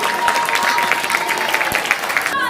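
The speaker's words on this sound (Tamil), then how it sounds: "அவருக்கு ஒரு பெரிய கைத்தட்டு தட்டுங்க முயற்சிக்கு" Applause for a small team's efforts at a school event for a drawing competition, a dense, steady patter of many hands clapping for a few seconds with a faint steady tone underneath and no talk.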